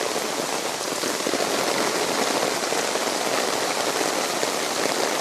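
Steady heavy rain pours down on a rainy Sunday, a loud continuous hiss of drops striking surfaces nearby, unbroken for the whole stretch.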